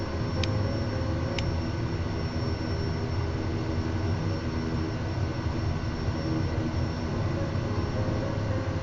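A propeller or jet airliner engine roars steadily at high power during a takeoff run on a remote airstrip, a loud continuous broadband drone with no talk, holding constant through the whole stretch.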